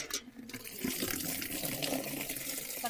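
A bag washed under running water, a steady close splashing and trickling like a filling sink for a few seconds, alone without talk.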